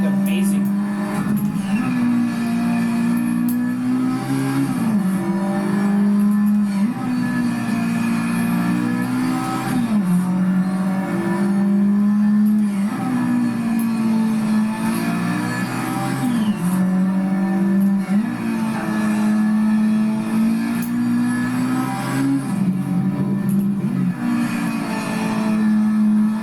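A Toyota AE86 Sprinter Trueno from the 1980s in Project Cars 3 on PS5 runs its engine loud and close, steadily droning with repeated rises and dips in pitch as it shifts and revs through curves, tires occasionally squealing.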